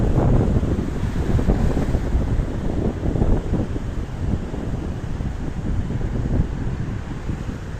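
Storm wind roars by the sea, a loud, steady broadband rush with gusty buffeting against the microphone and surf mixed in, continuous with no talk.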